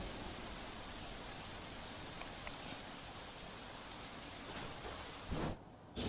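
Heavy rain pours steadily over Kalol city, a dense, even hiss of falling water on surfaces that holds for several seconds, with a brief heavier rush near the end before a short drop.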